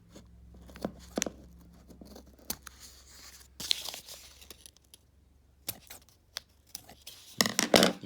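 Scissors snipping through thick craft material for a Blackhawk model, heard as several sharp, close cuts and crinkling tears spread across a quiet room, with a louder burst near the end.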